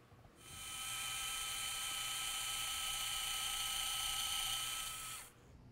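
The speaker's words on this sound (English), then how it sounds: "Here I'm using the VIP Pilot Reamer to create our Pilot Ream hole." A VIP Pilot Reamer drills a pilot ream hole, a steady high-pitched whine like a dental drill that starts, holds evenly at a loud close level for about five seconds, then cuts off.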